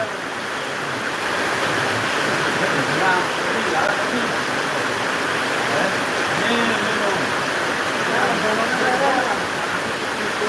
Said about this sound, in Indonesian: Lagi hujan gede.